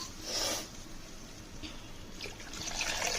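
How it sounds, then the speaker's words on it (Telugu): Water pours and trickles into a rice cooker pot in a home kitchen, a steady close splashing fill that swells at the start and again near the end, with no talk. "ఆ వాటర్ పోసేస్తాను త్వరగా అయిపోతుంది అలా చేస్తే స్టవ్ ఖాళీ లేదు అందుకని రైస్ కుక్కర్లో పెట్టాను"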